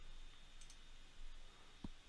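A single sharp computer mouse click in quiet room tone while working in madCAM milling software inside Rhino, with a faint earlier tick.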